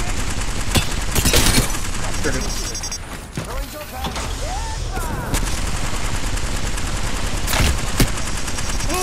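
Enemy gunfire in the Apex Legends video game, a dense run of bursts and sharp shots crackling loudly throughout, with excited speech mixed in.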